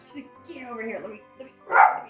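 A pet dog gives one short, loud bark near the end, right after someone speaks indoors.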